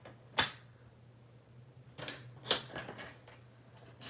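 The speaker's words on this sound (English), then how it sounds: "I'm actually gonna bring my trimmer in and we'll cut" A paper trimmer cutting cardstock for a handmade gatefold card, heard as a few sharp, quiet slicing swipes with pauses between them and no talk.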